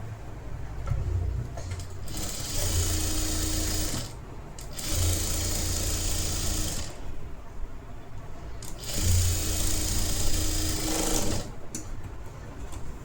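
A sewing machine stitches a folded half-inch edge of blouse fabric in three steady runs of rapid mechanical whirring, each lasting a few seconds, separated by short pauses.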